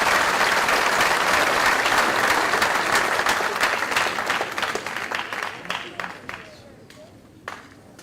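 A crowd at a high school athletic awards event applauds loudly for the spring coaches, dense clapping that holds for several seconds then thins and fades to a few scattered last claps.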